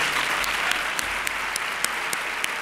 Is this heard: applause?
yes